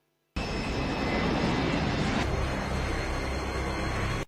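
An airplane in flight from the film The Darkest Hour gives a loud, steady engine roar. It cuts in abruptly after a brief silence and holds without pause to the end.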